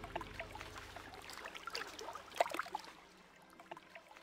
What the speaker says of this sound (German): Schön, dass das Wasser hier am Plätschern ist.